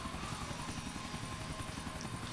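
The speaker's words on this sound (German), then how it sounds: "Ihr wisst ja, wie gut ich Hubschrauber fliegen kann." A helicopter in GTA IV flies with a steady, dense rotor and engine roar that fills the whole stretch evenly, quiet overall and without any talk.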